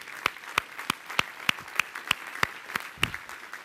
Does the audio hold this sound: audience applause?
yes